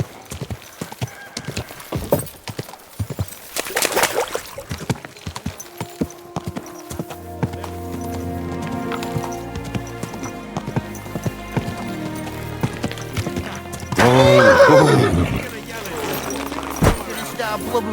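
Horse hooves clip-clop steadily in Kingdom Come Deliverance 2, with a louder whinnying neigh near the end and voices speaking over parts of the ride.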